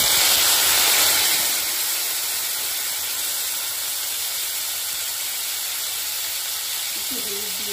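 Water splashed into a hot pan while cooking mochar pulao, giving a loud, close burst of hissing steam that settles into a steady, slightly quieter hiss.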